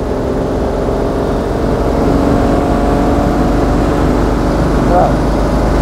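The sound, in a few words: 1939 BMW 327/328 six-cylinder engine running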